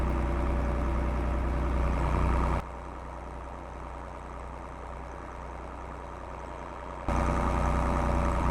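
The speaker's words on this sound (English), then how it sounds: "Listen to the sound of that engine. That is what a tractor should sound like." A steady tractor engine drones at idle, loud and constant, dropping in level for a few seconds midway before returning to its full rumble.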